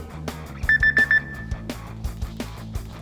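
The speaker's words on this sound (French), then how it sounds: "Le petit bip bip bip bip." Cardio stretching workout timer giving a quick run of four short electronic beeps, marking the start of a recovery period, over a thumping music beat.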